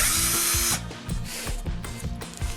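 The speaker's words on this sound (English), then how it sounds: "I use a drill, put your bit in there, and then just drill" A power drill bores light pilot holes for door hinge screws during an interior door replacement, with a bright whining burst at the start followed by lower, pulsing motor strain and repeated short rev surges, close and alone.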